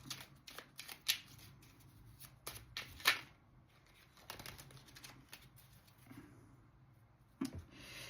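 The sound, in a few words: shuffling and drawing tarot cards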